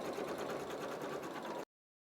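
A PFAFF creative 3.0 embroidery machine stitching an applique, a steady rapid mechanical whir of needle strokes, close and continuous, that stops abruptly.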